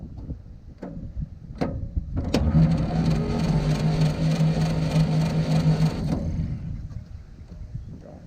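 A 1947 GMC EC303 truck engine turning over under the starter, a steady droning crank lasting a few seconds after some knocks and clanks, heard up close without any talk.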